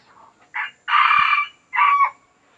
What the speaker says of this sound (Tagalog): Naninilaok na yung matapang na rin